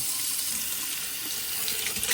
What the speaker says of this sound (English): Now, get hot water. You run this water hot.